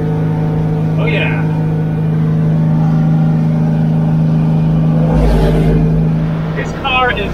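A 1970s car with an awkward clutch and brake drives along roads on Hvar Island, its engine a steady low drone throughout, with brief bursts of people talking over it.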